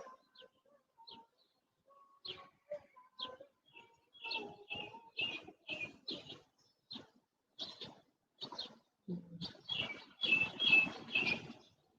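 Birds chirping outdoors on a spring morning, with several short, bright calls and tweets scattered through the clip, some near and some farther off, growing busier toward the end.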